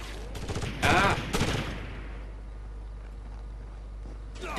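Gunfire in the video game Rainbow Six 3, with several sharp shots near the start, two of them loud bursts, followed by a fading tail of reverberation.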